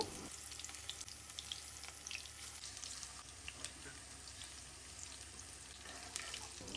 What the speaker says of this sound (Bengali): কড়াইতে দিলাম হচ্ছে সয়াবিন তেল তেলটা গরম হয়ে গেলেই এক এক করে এই বলগুলো ছেড়ে দিব ভাজার করার জন্য